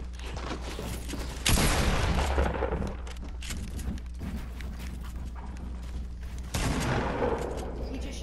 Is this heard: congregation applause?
no